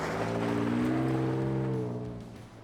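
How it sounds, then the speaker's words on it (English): A 2024 Ford Ranger Raptor truck engine growls loudly and steadily, its deep harmonic drone swelling slightly before easing off toward the end, with no talk over it. "some of the Raptor noise is fake, but I kind of love that Raptor soundtrack"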